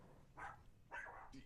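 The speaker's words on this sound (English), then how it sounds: "Never mind the dog." A dog barks twice in a room, two short, moderately loud barks about half a second apart over a faint background hum.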